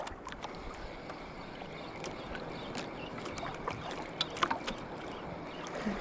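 A small boat rocking on choppy ocean water, with steady wave wash, splashes and wind rushing against the hull throughout.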